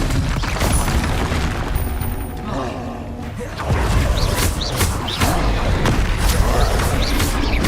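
Spell combat in Hogwarts Legacy, loud repeated booming blasts and crashing impacts with crackling bursts, dense and busy throughout, with a voice shouting over the fighting.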